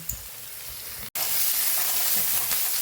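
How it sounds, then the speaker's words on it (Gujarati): Ginger and garlic sizzle steadily in a pan with fried onions while cooking a Kathiyawadi mixed vegetable dish, a close, continuous hiss broken only by one brief gap. "સરસ આપણે આદુ લસણ ને સાતડી લેવાનું છે"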